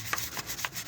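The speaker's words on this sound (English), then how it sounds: "It takes a little elbow grease and a good scrub brush." A scrub brush rubs rust off a Honda CRF300L motorcycle exhaust, giving a few quick rasping strokes in a short, close burst.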